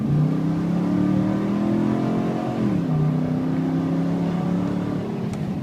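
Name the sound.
Nissan Titan pickup truck engine revving while driving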